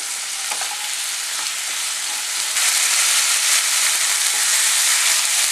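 Potato pieces fry in hot oil for an egg kurma, giving a steady, close sizzling hiss that grows louder partway through, with no talking.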